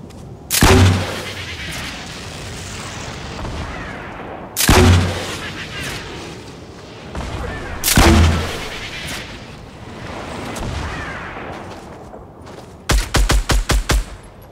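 Gunfire in the battle royale game Fortnite: three loud, sharp shots spaced a few seconds apart, each trailing off, then a rapid burst of about six quick shots at the end, with no talk.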